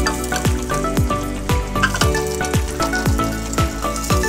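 Garlic, ginger and onion sauté in a frying pan with steady sizzling, while a utensil scrapes and stirs in regular strokes about every half second, close and moderately loud.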